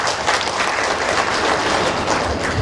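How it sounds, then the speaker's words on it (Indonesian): Meeting participants clapping together in a dense, steady round of applause that fills the room throughout. "opini seperti ini patut kita beri aplaus buat kita"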